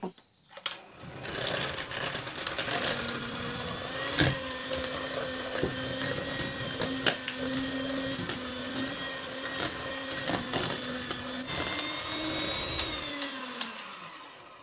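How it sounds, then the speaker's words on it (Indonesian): An electric mixer beats powdered sugar for banana cookies made with horn plantains, giving a steady close motor whir that runs almost without break for about thirteen seconds before cutting off. "Sekarang ini saya mixer sampai ini semua tercampur rata."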